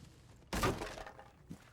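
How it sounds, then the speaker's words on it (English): Fireworks going off outside, heard as one sharp cracking burst with a brief crackling tail, followed by a smaller pop moments later. "We just got some fireworks going off"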